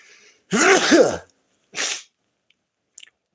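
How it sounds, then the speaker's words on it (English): One loud, close sneeze with a voiced burst, followed by a softer breathy exhale and a faint click. "I'm about to sneeze right now"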